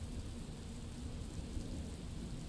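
Video-game rain falls steadily with low rolling thunder beneath it, a continuous, fairly quiet wash of sound with no voices.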